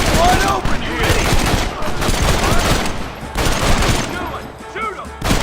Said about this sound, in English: You and I'll provide the cover fire.